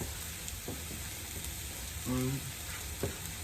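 Steak frying in a pan at home, a faint steady sizzle with a few light clinks and taps nearby and a brief voice-like tone in the middle.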